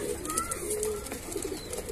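Highflier pigeons of fulsare, kalpare and kaldume types cooing in a coop in Andheri West, soft repeated coos close by with faint background noise and no talk.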